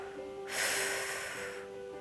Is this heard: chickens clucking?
no